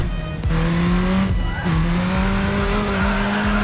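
Car drifting in the Racing Master racing game, with engine drone and tire squeal, loud and continuous, rising and dropping in pitch through several slides and shifts.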